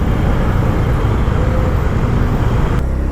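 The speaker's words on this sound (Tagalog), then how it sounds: "Grabe, sobrang traffic dito" Heavy street traffic near road works, heard from a delivery rider's position as a loud, continuous roar of engines and tyres with no breaks or voices.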